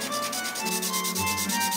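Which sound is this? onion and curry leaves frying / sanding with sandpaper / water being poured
sanding with sandpaper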